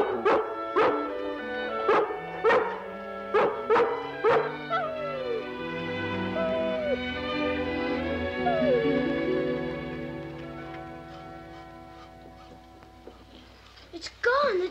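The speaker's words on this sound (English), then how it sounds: "If you want to stay and bark at that squirrel all day" A dog, a rough collie, barks at a squirrel outdoors, giving a quick run of loud, sharp barks in the opening seconds before fading into a softer stretch, with a musical score running underneath.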